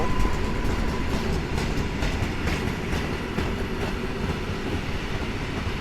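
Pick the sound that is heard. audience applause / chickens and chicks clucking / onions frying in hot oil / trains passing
trains passing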